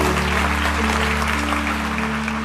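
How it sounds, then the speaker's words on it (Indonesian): A church congregation claps together during a sermon, a dense continuous roar of hands mixed with a sustained organ or keyboard chord underneath. "kasih tepuk tangan untuk Tuhan"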